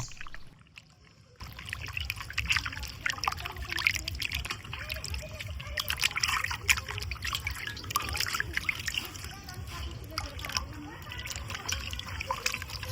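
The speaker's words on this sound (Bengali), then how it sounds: "এভাবে কিন্তু কচলায় কচলায় ধুই নিব আবার ভিতরে বাহিরে চারিদিকে কিন্তু উল্টাই পাল্টায় না ধুই নিব" Mutton pieces, including the chusta cut of goat offal, are rubbed and turned by hand in water, giving steady splashing and trickling close by, with a voice speaking over it.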